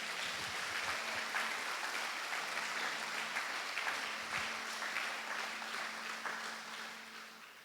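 A church congregation applauds for Jesus during a sermon, a steady wash of many hands clapping, fairly distant and even throughout.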